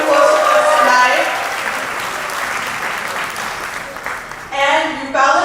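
A wedding reception crowd breaks into applause, a dense wash of clapping that holds loud, fades a little, then swells again near the end, with a voice speaking over the start.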